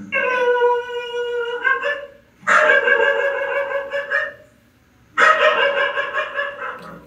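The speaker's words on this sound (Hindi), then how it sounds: "ये मेरे लिए बड़ी हैरान की बात है कि कमरे की तरफ रुक करके क्यों भौंक रहा है?" A dog barks indoors near a room inside a walled compound with a closed gate, three long harmonic bark-howls in a row, loud and close, each lasting about two seconds with short pauses between.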